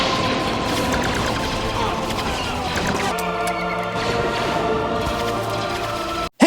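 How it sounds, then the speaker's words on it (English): Dense, continuous Star Wars blaster fire from The Last Jedi, with rapid zapping shots layered over a roaring battle din, loud and unbroken until a sudden cut at the end. "After the explosion from all the blasters, the salt is blown off the ground"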